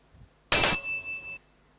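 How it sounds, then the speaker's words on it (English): A single bright ding from a bicycle-type bell, rung as a quiz timer signal at a cardiothoracic surgery teaching event, loud and close, ringing briefly before cutting off. "Give a bell at 15 seconds"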